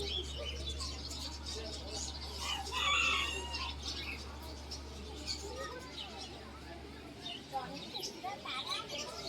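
Chickens and roosters at a fair exhibit in Bangalore showing hundreds of breeds give scattered clucks and chirps within a busy, steady crowd din, with people talking throughout.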